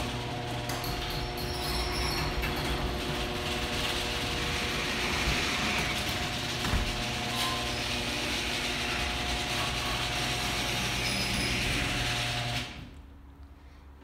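A Genie H6000A opener drives an overhead door up with a steady mechanical hum and rattle, plus a few clunks along the way, loud and sustained until it stops abruptly near the end.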